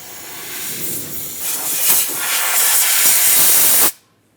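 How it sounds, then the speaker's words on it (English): Compressed air blows debris from around the starter of a 2009-2014 Nissan Maxima 3.5L V6, making a loud, steady close hiss that swells for almost four seconds and then cuts off abruptly. "For me personally, I'm going to carefully use some compressed air."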